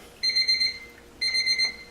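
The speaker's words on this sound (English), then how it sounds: "Oh, there's our timer." A kitchen timer goes off during pasta cooking, sounding two loud, close bursts of rapid electronic beeping separated by a short pause.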